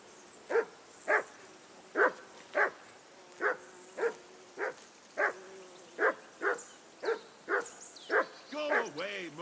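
A dog in the Kingdom Come: Deliverance II video game barks in a steady run of about fifteen sharp, evenly spaced woofs, close and fairly loud, ending in higher whimpering yips.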